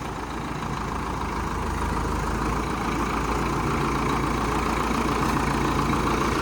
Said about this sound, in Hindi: हालांकि रंगू दादा का कह रहा है अपनी ट्रैक्टर में दम है कि नहीं है?